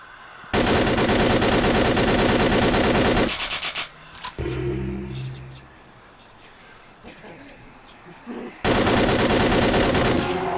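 Dense, loud automatic gunfire from a newly acquired gun in the PC game Vampire: The Masquerade – Bloodlines, two long sustained bursts at the start and end with a quieter stretch of combat noise between them.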